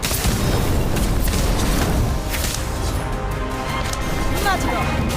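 Incendio fire spell effect from the Harry Potter game Magic Awakened, a loud continuous burst of booming, crackling blasts filling the clip, layered with other game sounds and a voice calling out spells.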